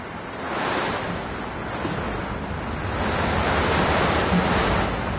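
Sea chop slapping under wind on open water, a steady broadband wash that swells and eases, with no voices.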